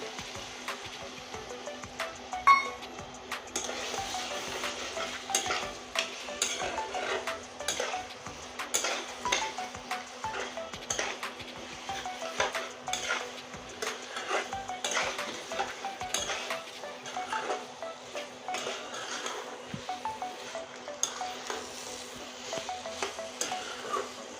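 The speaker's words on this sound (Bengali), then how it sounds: "এই চালের গুঁড়োর জলটা আমি দিয়ে দিচ্ছি" Rice flour water going into a potato and fish-head curry in a pan, with steady stirring, scraping utensil clicks and a soft simmer throughout, fairly quiet and without talk.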